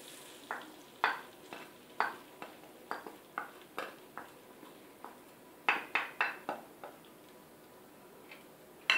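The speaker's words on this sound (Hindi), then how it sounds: "धनिया को आप अच्छी तरीके से भून लें और गैस को बिल्कुल कम रखें।" Coriander powder is roasted over low heat in a pan for dhania panjiri, a spoon scraping and tapping the pan in an even series of light, close strokes, with no talking.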